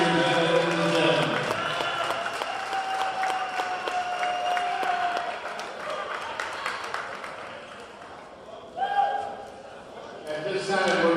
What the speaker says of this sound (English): How about one more big round of applause for all the seniors in the gym?